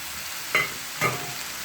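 Prawns hit a hot pan and sizzle softly, with two brief stirring scrapes over a low, steady frying hiss.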